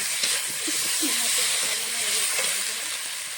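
Potatoes sizzle in hot oil for a rohu fish curry, a steady close hiss running throughout with a faint voice underneath.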